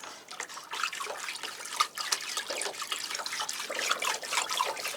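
Orchid fertilizer stirred into a container of water, giving soft continuous swishing and trickling with small clinks and drips, close and fairly quiet, no talking.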